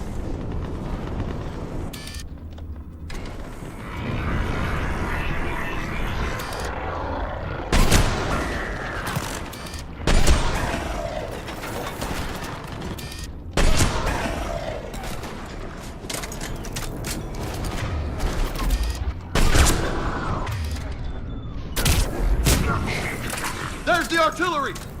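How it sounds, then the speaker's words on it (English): Heavy artillery fire in Mass Effect 3, booming blasts recurring every few seconds amid battle noise, with voices speaking throughout. "There's the artillery!"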